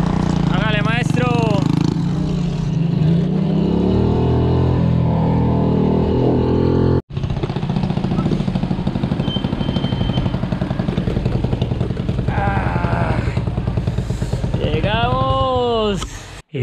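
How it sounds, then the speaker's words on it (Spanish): A motorcycle engine drones steadily at close range, revving and straining, with a voice speaking over it at the start and near the end. "de nombre Franklin, que fue el que me trajo en la moto"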